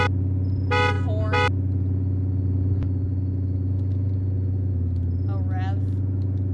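A car horn honks in a video game over a loud, steady idling engine drone, two short blasts near the start and another brief toot near the end, with a voice talking over it.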